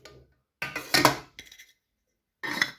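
A lid from a camping pot set being handled and set on a metal pot: several sharp metallic clinks and rattles in separate bursts, close and fairly loud, with short silences between them.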